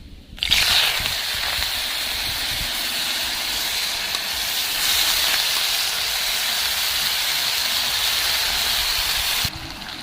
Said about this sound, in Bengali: কড়াইয়ের মধ্যে আমি সাদা তেল দিয়ে দিচ্ছি কয়েকটা আলু নিয়েছি